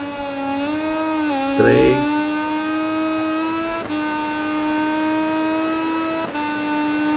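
A KTM Red Bull racing motorcycle engine in MotoGP20 whines at a steady high pitch, dipping and rising as the bike shifts, with a brief burst of talk over it.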